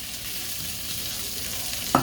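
Sausages frying steadily in a pan with a continuous sizzle, then a short sharp burst near the end as peppers drop in, with no talking.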